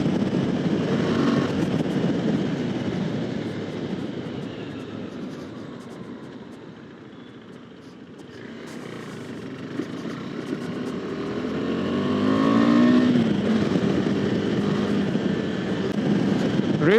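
A KTM 390 Adventure single-cylinder motorcycle engine revs high under steady riding, a continuous close buzzing drone with wind noise that swells and eases slightly over the span, no voices.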